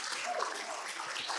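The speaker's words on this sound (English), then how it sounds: "give them a round of applause" Audience applause rising after a business talk, steady broadband clapping from a crowd through a short burst, with a faint voice briefly underneath.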